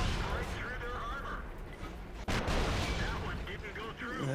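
A tank cannon fires once in World of Tanks, a sharp loud blast that cuts through steady battle noise, with a voice talking over it.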